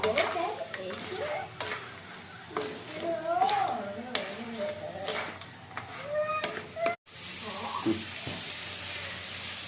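Small crabs being sautéed with spice masala and ground coriander in a pan, with scraping stirs and a soft sizzle under frequent talking, then a brief pause and a quieter stretch of frying.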